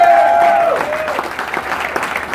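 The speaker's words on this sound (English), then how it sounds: "everybody, give him a round of applause" An audience at a medical cannabis cup awards ceremony claps loudly and steadily as a voice trails off at the start, the applause filling the room to the end.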